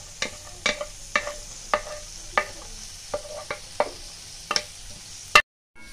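Onions hit a hot plate for pork sisig at a street food stall, hissing steadily while a metal spatula clacks sharply against the plate about a dozen times in an uneven rhythm, ending abruptly.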